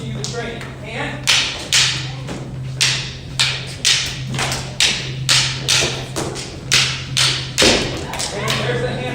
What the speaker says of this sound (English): When you hear that click of the stick